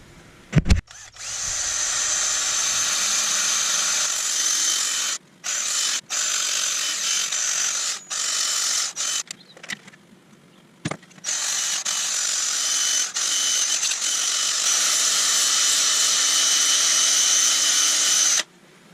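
A steady high whirring hiss runs for long stretches, broken by brief stops, as a wooden burl bowl is sanded while spinning on a lathe.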